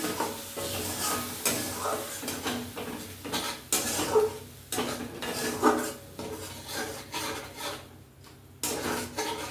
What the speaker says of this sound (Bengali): আর অল্প একটু জল দিয়ে কষে নিচ্ছি